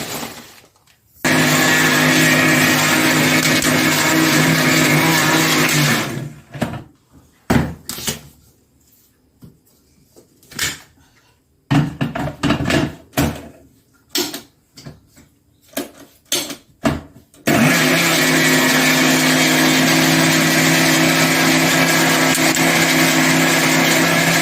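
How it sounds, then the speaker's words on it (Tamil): Mixer grinder jar whirring loudly as it grinds rava and sugar, running in a long steady burst, then stopping for a stretch of short bumps and pulses, and finally roaring steadily again. "எப்படியோ ஜாரில் போட்டு அரைக்க வேண்டியது தான்"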